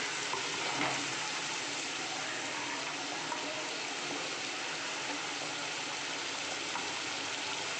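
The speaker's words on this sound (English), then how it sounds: "Now we will stir it. We will fry it for 1 minute." Steady, dense sizzling of spices frying in a hot pan with a little water, continuous and fairly close, with faint occasional scraping as it is stirred.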